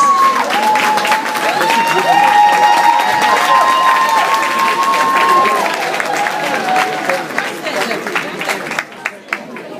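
An audience at a comedy show claps and cheers in a dense, sustained burst, with a shrill whistle or whoop rising above it before the applause tapers off near the end.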